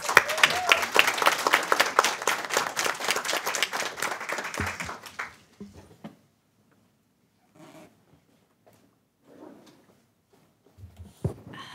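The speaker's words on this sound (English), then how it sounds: "Please give Eshe Jackson a round of applause." Audience applause for panelist Eshe Jackson at a roundtable on reversing the school-to-prison pipeline, a dense burst of clapping for about five seconds that dies away, leaving a quiet room with a few faint shuffles and knocks.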